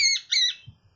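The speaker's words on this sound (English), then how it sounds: "You won't eat his fruit, he's a very bad bird." A pet bird gives two loud, close squawks, harsh and shrill, one right after the other, followed by a soft low rustle.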